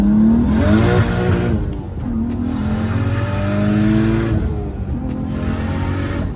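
A turbocharged BMW E36 with an external wastegate pulls hard through the gears from inside the cabin, engine rising in loud sweeping revs, breaking off sharply at each shift with a hissing wastegate release before climbing again.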